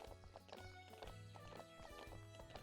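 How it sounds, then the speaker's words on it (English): Horse hooves clip-clopping in a horse-riding video game, a rapid rhythmic clatter of hoofbeats over game music and background tones, steady and moderately loud without speech. "the click-clack sound of the horse hoofs"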